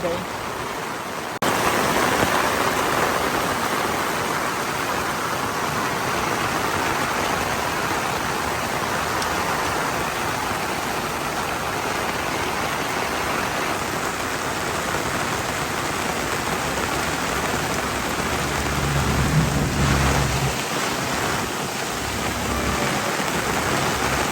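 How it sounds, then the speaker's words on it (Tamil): Heavy rain pours down onto a road in Karainagar town during a prolonged downpour that threatens flooding, a dense, steady roaring hiss that fills the whole stretch at close range, with a brief low rumble near the end. "நல்லா மழை கொட்டி கொண்டிருக்குது"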